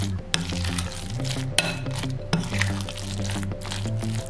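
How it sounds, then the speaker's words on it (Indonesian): Thick batter of corn and spinach for fritters is stirred in a pot, giving a wet, squishy churning with small clicks of the spoon, close and continuous, under a faint background hum. "Udah mengental gini, aduk lagi supaya merata."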